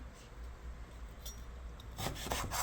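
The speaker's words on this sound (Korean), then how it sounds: "참외를 한번 쓸어 볼게요." A knife slices thin diagonal pieces of Korean melon (chamoe) for pickles: quiet, faint rubbing, then a short run of close, rhythmic cutting strokes at the end.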